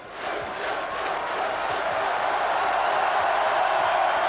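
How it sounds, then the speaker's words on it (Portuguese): A large crowd cheering and applauding at an open-car parade for the French world champions, a dense, steady roar that swells slightly and holds loud throughout. "Na torcida, aplausos sincronizados."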